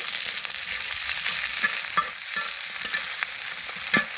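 Mustard oil sizzles steadily in a hot pan with occasional scraping stirs, no voices.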